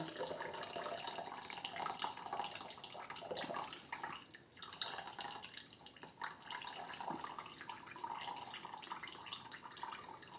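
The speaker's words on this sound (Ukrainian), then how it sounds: "Тепер тут воду зливаю геть." Water drains off a pot of cooked meatless vegetable cabbage rolls. A steady, close pouring and splashing rush continues without pause for about ten seconds.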